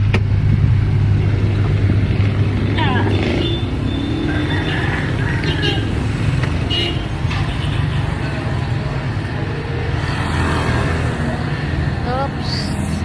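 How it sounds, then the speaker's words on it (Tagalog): A motorized tricycle's engine drones past on a street, a steady rumbling motor sound that carries through the whole stretch amid general street noise. "Hindi tayo makatawid at may tricycle."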